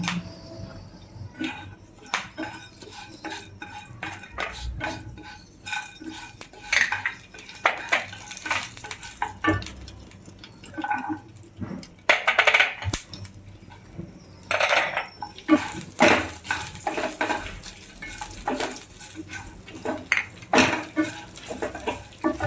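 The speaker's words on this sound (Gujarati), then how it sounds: "આ પેન ગરમ કરી છે એમાં એક અડધી ચમચી તેલ નાખીશું અને ફરીથી આ બધા મસાલા છે એ ધીરા તાપે થોડા થોડા સાંતળી લઈશું" Misal pav spices sautéing in half a spoon of oil over low heat in a pan while a spoon scrapes and clinks against the metal in irregular bursts of stirring.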